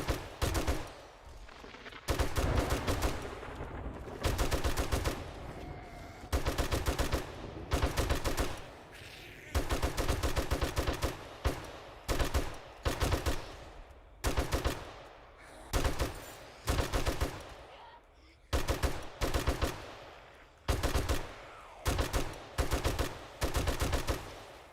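Repeated gunfire from a .44 weapon in the survival video game 7 Days to Die, set in a desert base, with loud shots in irregular bursts and single cracks spread across the whole stretch, no talking.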